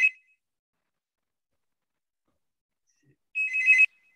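A mobile phone ringtone plays two short bursts, a brief chirp at the start and a longer electronic ring a few seconds later, with silence in between.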